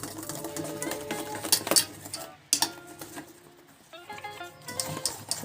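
A spice mixture for bread potato tikki, seasoned with salt and red chilli, is stirred in a bowl, giving faint scattered clinks and scrapes under steady background music.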